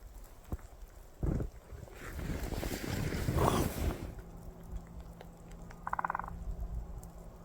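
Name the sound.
woodpecker pecking in snowy Lapland forest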